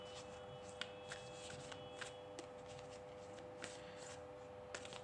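Tarot cards are shuffled by hand, a faint, close, continuous riffle of card stock punctuated by soft taps and flicks as cards are drawn, with no talking.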